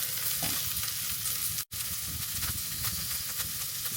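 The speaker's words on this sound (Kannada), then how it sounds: "ಸೊ ನೋಡಿ ವೀಕ್ಷಕರೇ, ಬೆಂಡೆಕಾಯಿ ಯಾವ ಲೆವೆಲ್ಗೆ ಫ್ರೈ ಆಗಿದೆ ಅಂತ." Okra frying in a pan on a stove for a South Indian bhindi fry, giving a steady, close hiss and sizzle with one very brief break midway.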